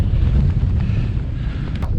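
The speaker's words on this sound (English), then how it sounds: "there we go, sideways winds" Strong sideways wind buffets the microphone near the summit of Pen Y Fan on a winter hike, a loud continuous low roar with gusty rumble throughout and no talking.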